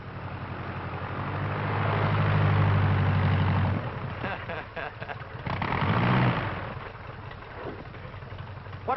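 A new aircraft engine rated at a hundred extra horsepower runs loud and steady, a low droning roar that swells, dips after a few seconds and surges again.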